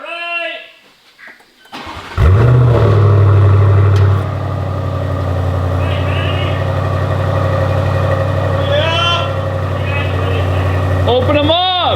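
A single-turbo BMW F82 Heritage Edition fires up with its exhaust valves closed, a loud starter catch settling into a steady, deep idle, with people talking and cheering briefly before and near the end.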